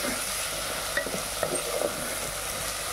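Rice pulao masala with turmeric being stirred in a pan, a continuous oily sizzle with soft spoon scrapes and light taps scattered through it, nearby and without speech.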